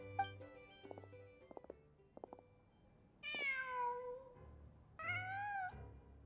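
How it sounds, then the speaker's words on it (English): Cat meowing in Genshin Impact, two clear drawn-out meows with falling pitch following a few soft tonal game sounds, fairly close and alone. "Huh. Just a cat."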